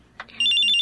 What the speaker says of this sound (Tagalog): Ay, cellphone ko. Si Agnes, tumatawag.